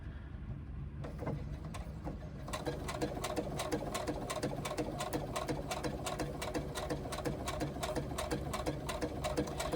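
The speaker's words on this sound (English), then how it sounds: "So what we now need to do is a row of stitching along the folded edge" A sewing machine runs a row of stitching along the edge of a mesh pouch, starting after a brief quiet pause and then settling into a steady, rapid mechanical chatter, close and alone.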